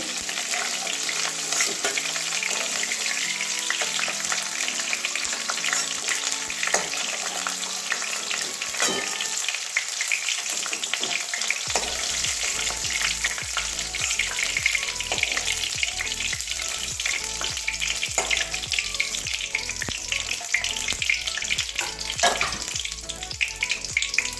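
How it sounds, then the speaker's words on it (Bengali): Steady, dense sizzling of cauliflower frying in oil, with occasional scraping stirs and clinks; no talking. "আমার ফুলকপিটা ভাজা হয়ে গেছে"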